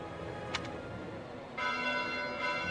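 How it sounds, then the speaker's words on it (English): Church bells ring at midnight in Fire Emblem: Three Houses, faint at first and then a sustained, resonant chime that swells in and holds, distant and alone without voices. "Bells? This late at night?"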